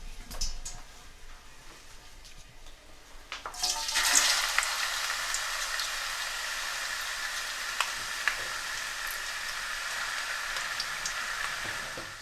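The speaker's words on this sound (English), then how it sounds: "I'll start frying onions in it" Onions frying in hot oil give a steady, soft sizzle that begins a few seconds in and continues evenly, with no talking.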